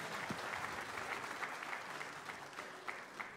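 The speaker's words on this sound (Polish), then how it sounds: "Wielkie brawa do Andrzejka." Crowd applause at a 2009 benefit concert celebrating a performer, a fairly faint, sustained patter of many hands with a slight rhythmic pulse, heard without speech.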